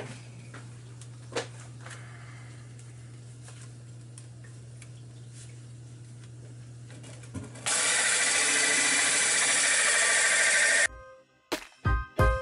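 A power drill bores holes in aquarium glass, a faint hum with scattered ticks giving way to a loud, steady grinding burst that stops abruptly, followed by a few sharp knocks.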